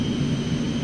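Steady, loud engine whine and low rumble from an Aerobask Eclipse 550 jet taxiing in X-Plane 11, a constant drone with no variation over the short stretch.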